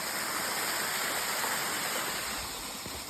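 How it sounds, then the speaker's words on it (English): Water runs through a large dug channel near an old road in a goldfield, a steady close rushing hiss with no pauses and no voices. "look at here running water."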